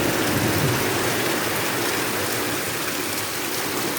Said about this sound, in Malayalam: നല്ല മഴയായിട്ടില്ലേ, നല്ല മഴ